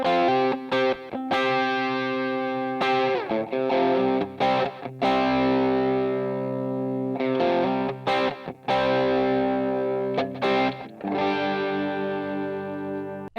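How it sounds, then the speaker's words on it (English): Electric guitar through a Wampler Paisley Deluxe Drive set with voicing out and low gain, giving a modded Tube Screamer style country tone; steady overdriven licks with frequent note attacks, close and continuous, no voices. "For this tone, use the Paisley Deluxe drive with the voicing set out, and you want the drive a little bit back,"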